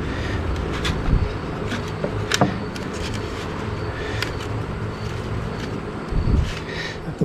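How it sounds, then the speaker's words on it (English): Air blasting dust and dirt out of the AC fan blower motor of a 1972 Mercedes-Benz 280 SE 4.5 (W108), a steady close-up rushing hiss with a few brief louder gusts. "Blow out all that dust and dirt in there."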